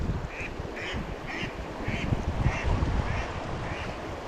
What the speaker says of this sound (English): Just ducks flying by